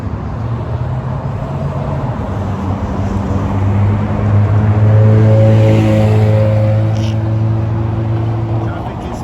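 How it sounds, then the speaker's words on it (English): Heavy road traffic rolls along a turnpike in Fort Lauderdale, Florida, during Hurricane Milton, a loud continuous rumble of vehicles with engines droning and swelling as they pass nearby. "the traffic is heavy right now"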